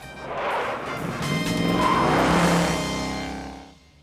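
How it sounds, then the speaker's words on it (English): A Shelby GT500 engine roars and revs loudly while tires squeal and skid in an anime car chase, building to a sustained peak before fading at the end. "Turn up the volume for the car chase and enjoy the authentic Shelby sounds."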